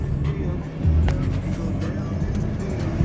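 A car with a 2014 V6 and a repaired sport shift button on a test drive, a steady, close interior engine and road rumble with a brief surge in the middle, and no speech.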